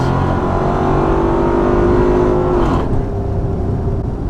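Aston Martin with a stock LS V8 swapped in pulls hard under acceleration, its loud engine note rising steadily and then dipping sharply as a gear drops before climbing again.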